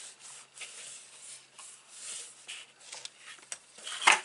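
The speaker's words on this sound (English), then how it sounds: "Give that a rub over the magnet as well" Paper card being rubbed by hand over a glued magnet on a gift box, a series of soft dry scuffing strokes with a brief louder scrape at the end, no speech.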